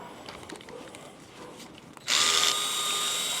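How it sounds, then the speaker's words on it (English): A power tool spins up loudly and runs steadily, the drilling whine kicking in partway through after quieter handling noise, as bolts are backed out of the motor on a regenerative vacuum pump during disassembly. "we've got 4 bolts back here that we're going to pull out"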